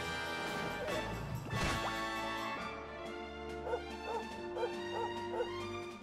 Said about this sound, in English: And Sandy can also bark, which makes them paralyzed